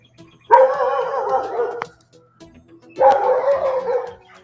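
A dog named Dozer gives two drawn-out, howling barks about a second apart, each loud and close, separated by a short quiet gap.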